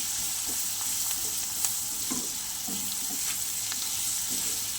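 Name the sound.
onion and spices frying in pan for fish curry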